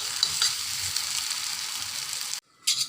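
Noodles sizzle and fry in a pan while being stirred, giving a steady hiss with a few scraping clinks, then a short break before the sizzling comes back.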